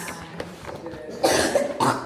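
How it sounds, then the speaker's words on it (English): A child coughs twice in quick succession, close and fairly loud, after a short quiet stretch. "Remember, cover your mouth when you cough"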